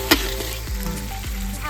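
Ground onion paste with salt frying in a pan for a Bhetki fish korma, a steady close sizzle with a few sharp clicks of a stirring spoon against the pan.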